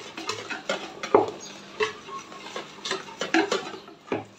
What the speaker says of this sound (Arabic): نخبطو البيض تاعنا حتى يتبدل اللون تاعو حتى يبيض